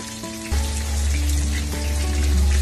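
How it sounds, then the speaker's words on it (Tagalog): Sliced onions sizzle in hot oil in a pan, layered over cooked bangus milkfish, giving a steady close frying hiss that swells after a brief quieter start, with a low hum underneath. "Tapos, lutuin lang natin konti yung sibuyas."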